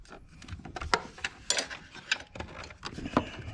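A wrench ratchets and clicks against the serpentine belt tensioner of a Honda V6 engine, giving a series of uneven metallic clicks and clacks close by, with no talk.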